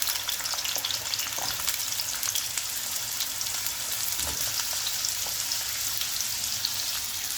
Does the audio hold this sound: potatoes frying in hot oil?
yes